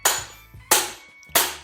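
A hammer strikes a star nut setter, driving a star nut into a bike suspension fork steerer tube: three sharp, ringing metallic whacks spaced evenly, close and alone.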